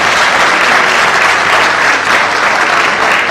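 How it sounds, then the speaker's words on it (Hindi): Vigorous applause from a theatre audience during cast introductions at a play, loud and unbroken, a dense crowd of hands clapping steadily. "बहुत बढ़िया, जोरदार तालियां"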